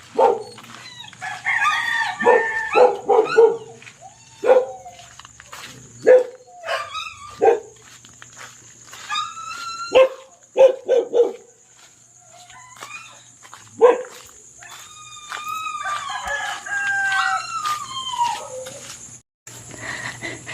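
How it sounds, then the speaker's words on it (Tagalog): A dog howls and whines in long rising and falling cries, repeated in bursts over steady background hum, with short barks mixed in. "Yung aso po namin ay nag-aatungal at gusto pong sumama sa amin."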